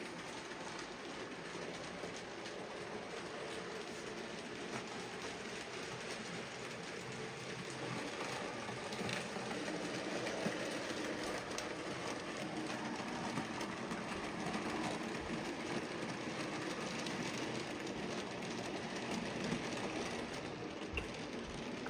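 A freight train hauls a string of vans around a curving stretch of railway, giving a steady, continuous rumble with faint clickety-clack of wheels throughout, heard without any talk.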